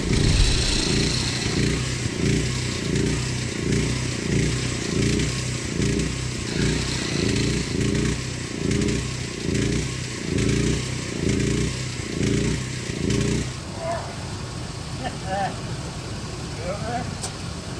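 A chainsaw cutting through big ash logs from a cleared building lot: a loud, steady engine drone with a regular pulsing rhythm for about thirteen seconds, then turning rougher and less even.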